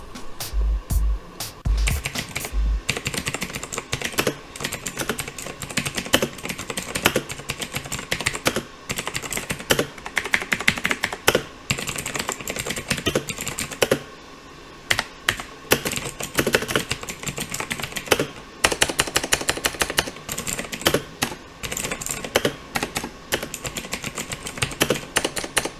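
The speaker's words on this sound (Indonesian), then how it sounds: "lebih jelasnya nanti kita dengar sound test daripada keyboard ini" Rapid, steady typing on a Razer BlackWidow Ultimate 2014 mechanical keyboard with clicky Razer Green switches, dense irregular keystrokes close to the microphone throughout with no talking.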